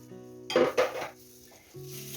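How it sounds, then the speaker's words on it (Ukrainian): A metal pot clanks twice as it is set down on a stovetop to make borscht, a short, close, ringing knock against a quiet background. "Ставимо каструлю на вогонь, вливаю трохи олійки, дві-три ложки."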